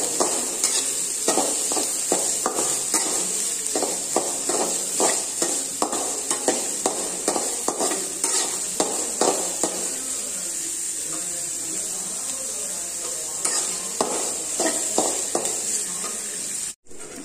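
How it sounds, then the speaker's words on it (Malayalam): Onions sauté in a pan over a medium flame for fish stew: a continuous sizzle with a run of quick scraping stirs, a quieter stretch mid-way, then more stirring near the end. "നമുക്ക് നന്നായിട്ട് ഒന്ന് വഴറ്റി എടുക്കാം മീഡിയം ഫ്ലെയിമിൽ വെച്ച് വേണം നമ്മൾ ഇത് വഴറ്റി എടുക്കാൻ"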